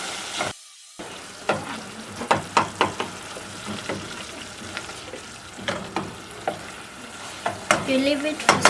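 Tomato paste and curry powder cook in a pan with a low, steady sizzle, broken by a string of sharp spoon scrapes and taps against the pan, close and alone with no speech.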